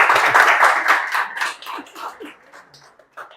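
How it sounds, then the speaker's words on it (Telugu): An audience claps, a dense burst of applause that thins into scattered claps and fades over a few seconds. "మీరేమో చప్పట్లు కొట్టలా ఒక్కసారి కూడా"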